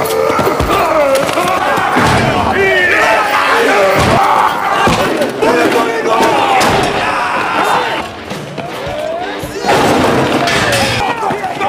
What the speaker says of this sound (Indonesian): Mereka semua kompak membuat suara, mendobrak pintu sel, dan bersatu melawan para sipir bak sebuah kudeta.